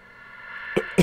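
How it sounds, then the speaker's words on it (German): Two short coughs from one person, the second slightly louder, close to the mic over a low steady game soundtrack. "Ich muss husten."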